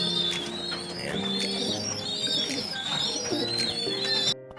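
Young racing pigeons coo repeatedly close by, overlapping soft throaty calls with some light chirps in the background.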